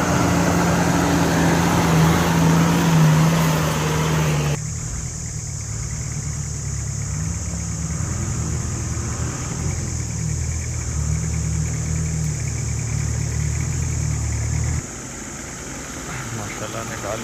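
A Toyota Fortuner on an off-road drive near Muzaffarabad starts, then settles into a steady low idle that holds for about ten seconds, close by, while someone talks over it.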